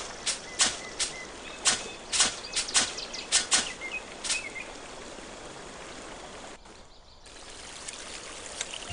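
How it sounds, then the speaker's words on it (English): River rushing toward a waterfall in the video game Lost Lands 5, a steady watery wash with bright drip-like splashes and trickles close by, easing later into a smoother flow. "Up ahead, the river ends in a waterfall."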